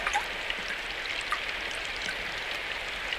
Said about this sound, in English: The sound of rain hitting the gutter